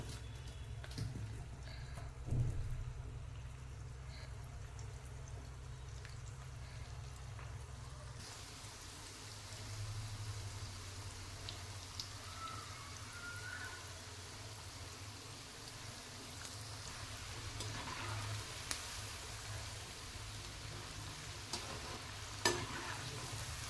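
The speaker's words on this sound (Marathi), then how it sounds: "आता बाकीचे मंचुरियन आपण तळून घेऊया।" Cabbage manchurian deep-frying in oil, a steady faint crackling sizzle like light rain, with a low rumble in the first seconds and occasional small clicks.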